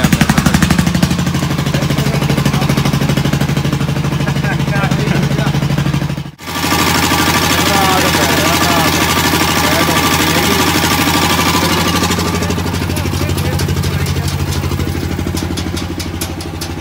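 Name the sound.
generator running during welding work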